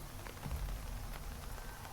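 Rain in the video game Terminus Zombie Survivors, a dense, even patter of drops striking a surface, steady and fairly quiet, with faint low thuds mixed in.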